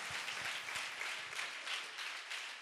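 A congregation claps in praise during a Telugu church service, a lively, continuous patter of many hands at a steady moderate level with no voices.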